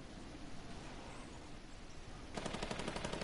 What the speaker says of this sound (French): j'entends la nouvelle mitraillette, ça sent pas bon